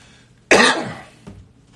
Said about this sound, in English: let me tell you something about this stupid cough